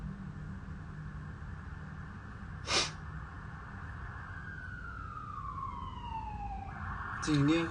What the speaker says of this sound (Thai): จะได้เสียงรถพยาบาลแบบเยอะมาก ๆเลยครับ